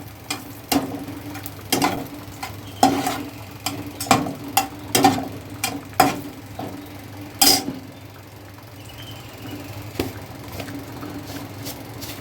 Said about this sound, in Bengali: এবার আমি ডালটাকে ফোড়ন দেবো।